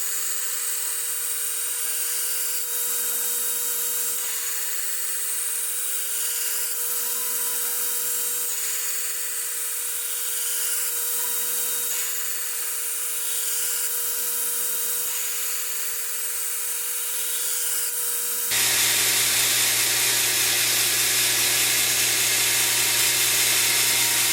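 Knife blade profile being ground on a grinder, a continuous high whine running steadily for the whole stretch with slight pulses as the blade is worked, becoming a louder, rougher roar near the end.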